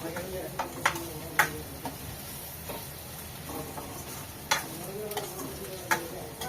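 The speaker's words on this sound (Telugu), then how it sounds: "అల్లం వెల్లుల్లి పేస్ట్ వేసి మంచిగా అయితే ఇది కూడా ఫ్రై చేసేసుకుంటున్నాను" Ginger garlic paste fries in a pan with a steady low sizzle, punctuated by sharp taps of a utensil stirring against the pan, while a voice speaks faintly.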